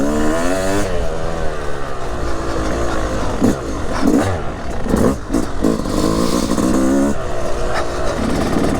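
Two-stroke hard enduro motorcycle in fifth gear on a fire road, its engine revving and accelerating loudly up close with a buzzing whine, gear changes and intermittent rattles and wind buffeting.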